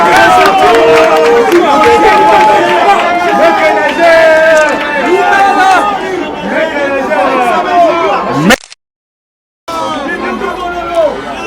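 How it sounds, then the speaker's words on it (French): A large crowd at a bridge inauguration in Ngaba, Kinshasa cheers and shouts together, many voices rising and overlapping loudly, then cuts to silence before the noise resumes. "de se tenir debout pour recevoir nos acclamations chaleureuses"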